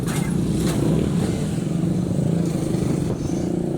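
A motorcycle engine drones steadily and loudly close by through the whole stretch, with road rumble and no speech, as it rides past on a road.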